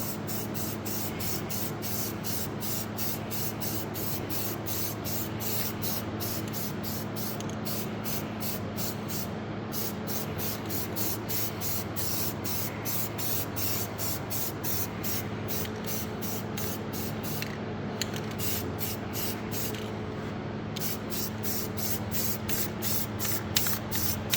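Spray gun applies a coat of paint to engine parts from a Subaru EJ25 rebuild, a continuous hiss broken by short pauses between passes, with a low steady hum from nearby equipment underneath.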